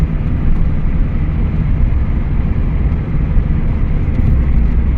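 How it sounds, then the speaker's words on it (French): A Peugeot 205 GTX car drives with a steady, loud broadband engine and road drone that holds at an even level throughout, and no gear change stands out clearly. "on va repasser une 4ème"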